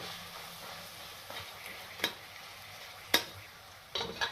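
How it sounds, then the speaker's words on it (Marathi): Ladoo ingredients fry in a pan with a soft, steady sizzle, punctuated by a few sharp clicks and scrapes as they are stirred. "आणि आता परत हे छानपैकी फ्राय करायचे आहे."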